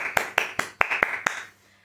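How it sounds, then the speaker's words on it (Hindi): A small round of applause: about six distinct, evenly spaced hand claps in quick succession, close and fairly loud, then silence. "तो हो जाए तालियां।"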